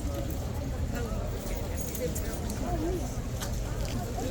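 A King's Guard horse's hooves clip-clop as a trooper leads it back into its box in the rain, a steady low rhythm under someone talking and a constant rumble of rain and street noise.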